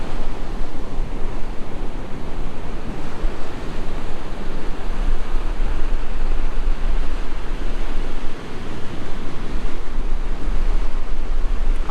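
Ocean surf rolls continuously onto a private resort beach at Mahabalipuram, a loud, dense wash of waves mixed with heavy wind rumbling against the microphone, with no voices.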